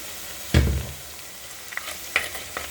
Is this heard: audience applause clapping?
no